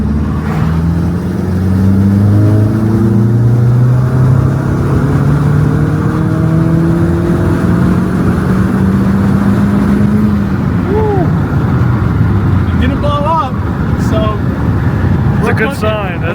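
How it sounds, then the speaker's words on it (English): A Mk1 Audi TT 225 (8N) engine makes a full-throttle pull from about 1500 to 6000 rpm, its loud tone climbing steadily for about ten seconds before easing off, with brief voices near the end. "let it drop to 1500 and then floor it and let it rip all the way to 6 grand."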